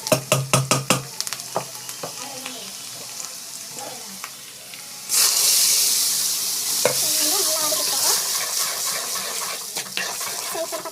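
Oil sizzles and crackles steadily as onions and curry leaves sauté in a pan, with scraping and stirring clatter near the start and a louder burst of sizzling midway.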